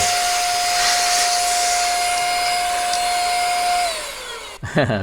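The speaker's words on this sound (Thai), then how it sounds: "ก็ความแรงในการเป่าเนี่ยโอเค" Small handheld battery-powered dust blower running at full power, a loud steady airy whoosh with a whining motor tone that winds down and cuts off near the end.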